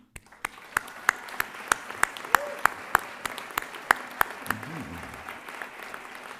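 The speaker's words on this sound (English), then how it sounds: "I think we ought to applaud them again." An audience at a college graduation ceremony claps in a slow, regular rhythm, sharp evenly spaced claps ringing out over a soft crowd bed, with brief voices calling out partway through.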